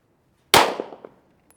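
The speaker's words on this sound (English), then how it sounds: "there's gonna be 2 9mm shots on this one" A single sharp 9mm pistol shot strikes a Hard Head Veterans Gen2 ballistic helmet. It is a loud close crack with a short metallic ring that decays within half a second, with silence before and after.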